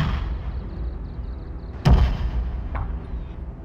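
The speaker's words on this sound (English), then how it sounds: "They have their own artillery." A single heavy artillery boom from a Total War: Fall of the Samurai battle, a sharp blast with a rolling low tail and a fainter second thump after it, heard over a steady game ambience.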